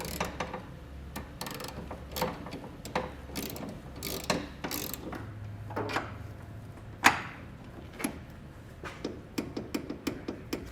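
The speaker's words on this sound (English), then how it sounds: "Now I'm going to snug up all 4 bolts for each bracket, and then I'm going to come back with a torque wrench and torque them down to spec." A hand ratchet snugs up the bracket bolts for Westin oval nerf bars on a 2019 Ram 1500, with bursts of quick pawl clicks separated by short pauses, close-up and fairly quiet, plus an occasional clunk of metal.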